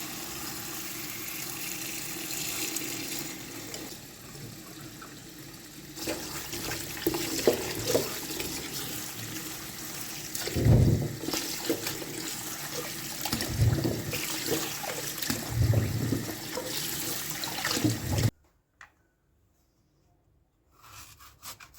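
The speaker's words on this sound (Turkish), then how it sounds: "Bamyaları bol su ile suda bekletmeden hızlı bir şekilde yıkayalım." Water runs steadily from a tap for a long stretch while okra is rinsed and handled beneath it, with splashes and clunks, then the flow stops.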